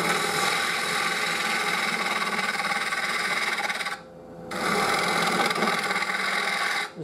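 A bowl gouge cuts very dry walnut spinning on a lathe, a loud continuous rasping shear that drops out briefly in the middle before resuming.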